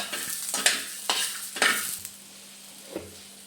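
Peanuts roasting and being stirred in a pan: a few brisk scraping, rattling strokes of a spoon against the pan over a faint sizzle, then quieter near the end.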